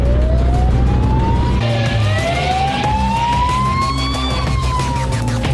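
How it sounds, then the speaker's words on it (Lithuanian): A police car siren wails in long rising and falling sweeps, loud and continuous over the low rumble of a vehicle engine. "Girdęs policijos sirenas ir pamatęs švyturėlius sustos."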